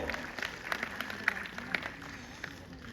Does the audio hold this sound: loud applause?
yes